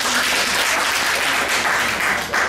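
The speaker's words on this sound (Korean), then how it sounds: "박수 박수." Seminar audience at a 2018 facility care evaluation preparation session applauding, a dense, loud and continuous burst of clapping from many people that tapers slightly at the very end.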